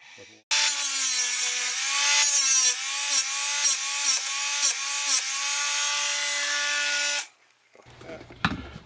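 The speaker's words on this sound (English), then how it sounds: "We just go ahead and use a Dremel." A Dremel rotary tool whines loudly and steadily while grinding a model train hook-and-loop coupler smooth, its pitch dipping briefly each time the bit bears into the part, then cutting off abruptly.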